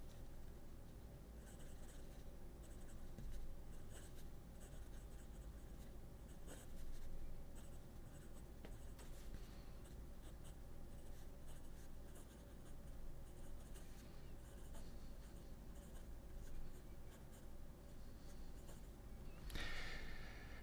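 Scratchy pen nib dragging across paper in a steady, continuous stroke pattern, a broad nib with a slight feedback texture, close and fairly quiet with no voices.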